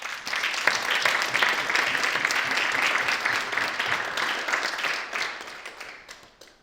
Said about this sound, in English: give a good big applause to the two